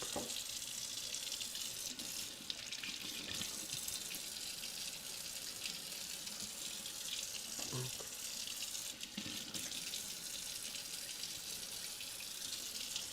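A kitchen tap runs in a steady, even stream while carrots are rinsed under it; the rush of water continues unbroken throughout, with no voices.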